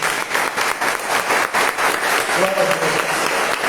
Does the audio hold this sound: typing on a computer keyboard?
no